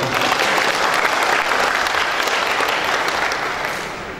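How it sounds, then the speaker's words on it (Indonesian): Applause from a crowd at a political declaration rally for Jokowi, thick loud clapping that holds steady and then tapers off toward the end. "Tepuk tangan untuk Jokowi"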